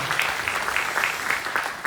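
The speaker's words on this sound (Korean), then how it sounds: "제주 청년들에게 큰 박수 한번 보내주시기 바랍니다" An audience at a public town-hall meeting in Jeju claps steadily together, a dense even patter of applause filling the hall without a break.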